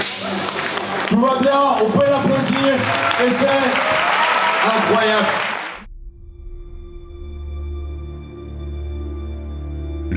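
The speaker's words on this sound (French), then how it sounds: "on peut l'applaudir" Audience applause for weightlifter Alex Jouet after an unofficial world record attempt at a competition, loud and dense with cheering voices for about six seconds, then cutting off abruptly to quieter tonal background.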